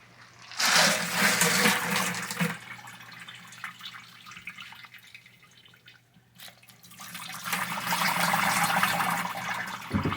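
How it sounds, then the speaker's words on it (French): Running water pours loudly over tumbler-polished pieces in bursts, splashing and draining, then easing off before a second strong rinse begins, heard close with no talk. "On rince ça."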